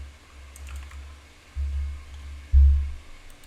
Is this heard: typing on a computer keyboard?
yes